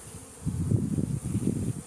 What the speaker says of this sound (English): All the bees are down there.